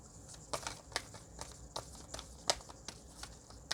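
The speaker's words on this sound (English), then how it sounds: "I've been practicing my shuffling" Tarot cards are shuffled by hand close up, giving irregular crisp flicks and papery snaps with no voices.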